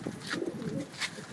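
A male show pigeon of a Pakistani breed, kept for display rather than flying, coos in soft repeated low calls at close range, with no talking.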